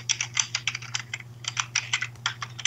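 Fast, uneven typing on a computer keyboard, close and crisp, with bursts of key clicks over a steady low electrical hum and no voices.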